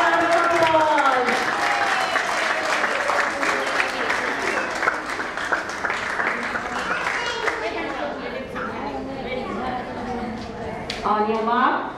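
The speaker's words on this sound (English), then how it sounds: "Please give them a big round of applause." An audience at a children's school sports and annual day event applauds in a sustained burst of clapping, close and full, while a child or children's voices sing or call over it throughout.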